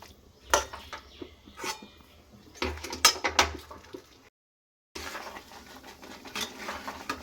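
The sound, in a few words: stirring jaggery and raw mango pickle in a pan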